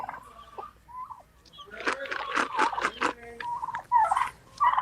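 Turkeys and chickens gobble and cluck in bursts on a farm with donkeys nearby, the calls close and fairly loud over light outdoor background noise.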